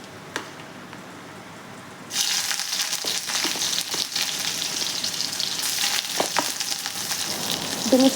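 Mustard seeds and curry leaves hit hot coconut oil in a pan for a jackfruit dish, starting from near silence with a sudden loud, crackling sizzle that stays dense and steady with scattered pops, no speech.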